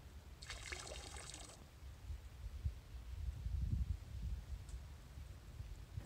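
River water sloshes and trickles as a syringe is flushed during surface water sampling, a soft splashing burst early on, then faint low rumbling water and handling noise at moderate distance.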